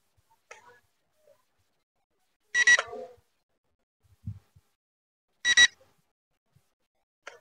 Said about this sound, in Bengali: অ্যালার্ম দিছে।